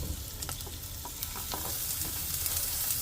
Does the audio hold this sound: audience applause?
no